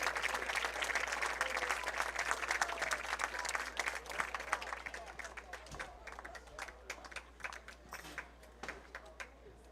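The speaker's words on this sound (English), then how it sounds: "Let's give these guys a big round of applause." Sustained audience applause and clapping from a crowd at a district tournament baseball game between Summertown and Loretto, dense at first and thinning out toward the end, with some voices mixed in.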